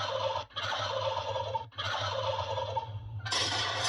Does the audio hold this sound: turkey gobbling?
yes